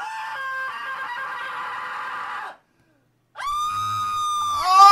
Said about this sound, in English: Let's see how loud I can scream